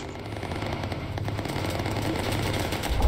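Bomber gunners in a World War II flight video game fire rapid machine-gun bursts, a dense, continuous rattle that grows slightly louder toward the end.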